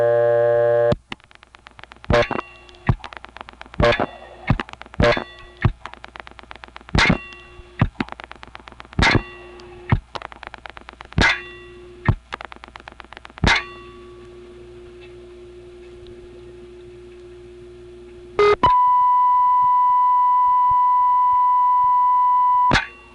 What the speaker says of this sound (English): Here's a telephone company test line in this office. It could be one side of a loop-around test line, or just a 1 kilohertz test tone